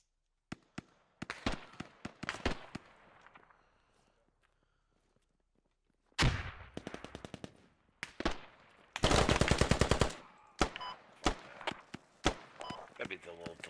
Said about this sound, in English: Where the fuck are we getting shot from?